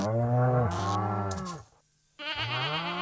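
A cow in the Stardew Valley farming game lets out a long drawn moo, followed by a short pause and a second lowing call, clear and close.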